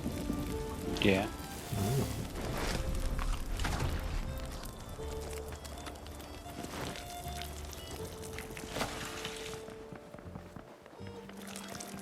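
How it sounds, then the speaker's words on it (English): Rain falls steadily as a dense hiss in the survival video game RuneScape Dragonwilds, running under people talking and reacting with short exclamations. "We have a rain spell?"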